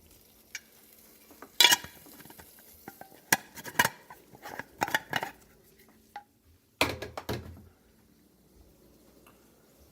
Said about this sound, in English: Wire whisk over high heat until the butter's completely melted and mixtures combined.